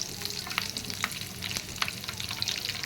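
Cumin and mustard seeds fry in hot oil in a pan, alongside a little coriander, giving a steady close sizzle with light crackles and stirring scrapes throughout and no talking.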